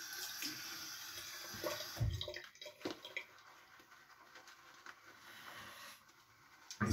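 Water runs and splashes faintly from a tap while shaving soap is worked into a lather, with intermittent patters and small knocks and a brief louder splash at the end.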